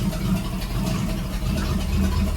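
An old 1949 Plymouth engine runs rough and steady, burning off diesel and Marvel Mystery Oil, a loud, close, continuous low rumble with uneven chugging.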